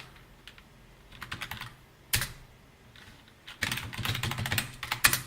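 A password is typed on a computer keyboard to log in to a Raspberry Pi, with bursts of close clicky keystrokes, a single sharp key hit near the middle, then a faster run of taps.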